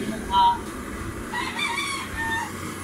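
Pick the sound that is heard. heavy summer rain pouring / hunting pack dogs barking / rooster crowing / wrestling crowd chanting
rooster crowing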